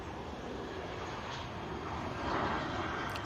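A Jet2 Airbus A330 airliner at Manchester Airport gives off a distant, steady jet-engine roar that swells slightly toward the end, with no voices over it.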